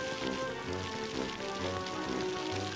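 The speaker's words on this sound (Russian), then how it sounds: "Идет дождик." Rain falls steadily while approaching Odessa, a soft, even patter on a vehicle's surfaces with a low rumbling hum underneath, continuous and moderately quiet.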